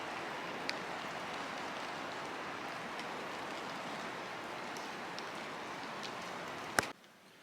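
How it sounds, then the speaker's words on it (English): Light rain patters steadily on the metal roof of a converted bus, a dense continuous hiss with occasional louder drops, then a sudden bump and near quiet at the end. "And the rain has really calmed down as well"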